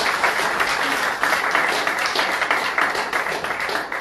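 Dense, sustained applause from a church congregation acclaiming the Lord, an even, loud wash of many hands clapping that continues without pause.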